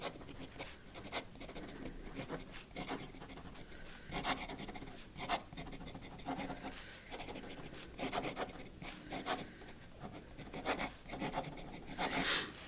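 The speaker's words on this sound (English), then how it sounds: "let's do some quick writing" A Moonman M2 eyedropper fountain pen scratches across paper in quick strokes, a close, soft scratching with an uneven rhythm of short bursts and brief pauses, no voices.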